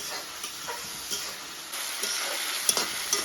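Spices and red chilli powder fry and get stirred in a pan for a local chicken dish with turmeric flowers: a steady close sizzle broken by scraping stir strokes and small clicks of the spoon against the pan, with no voices.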